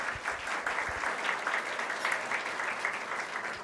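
Soft, steady clapping from a crowd at a corporate training session, somewhat distant and even in rhythm, continuing for a few seconds.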